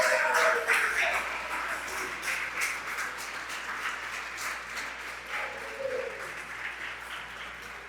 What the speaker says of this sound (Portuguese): dá um aplauso ao Senhor Jesus.